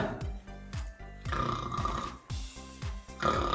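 A performer in a children's play imitates a bear snoring with the voice, giving a series of low, rhythmic grunting snores alternating with breathy pauses, close and fairly quiet.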